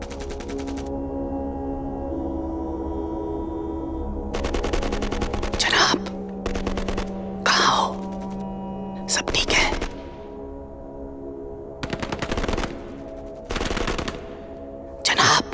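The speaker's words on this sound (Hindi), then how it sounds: "फायरिंग वापस शुरू हो गई।" Battlefield gunfire around a bunker in a Bollywood war film, repeated loud bursts of automatic fire broken by short pauses, with tense voices speaking between and under the volleys.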